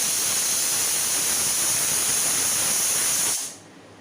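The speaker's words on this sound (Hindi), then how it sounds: "मैं कुकर का ढक्कन लगा के उसे अच्छे से 6 से 7 सीटी दे दूँगी" A pressure cooker releases a loud, continuous steam hiss, steady and close, that drops off sharply near the end, leaving only faint background.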